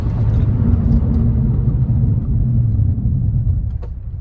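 A Ford Focus ST with slotted rotors and Hawk performance pads brakes from about 60 mph, a loud steady low road and cabin rumble that eases slightly near the end.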